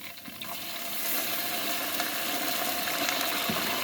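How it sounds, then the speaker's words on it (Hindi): Garlic ginger paste, thinned with a little water, frying with browned onions in a pan, giving a steady, continuous sizzle that builds slightly after the first second and holds evenly, with occasional faint stirring scrapes and no talking. "अब इसको अच्छी तरीके से मिक्स करेंगे और 1-2 मिनट के लिए इसकी भुनाई करेंगे"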